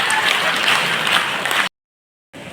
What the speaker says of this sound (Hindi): जोरदार तो और ताली बनता है।